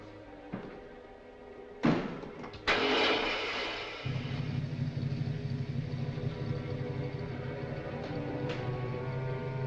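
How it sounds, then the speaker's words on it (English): A car motor turns over and starts, then settles into a steady idle after a couple of loud clunks and slams, heard alone with no talk, in a 1946 film scene. "Start the motor."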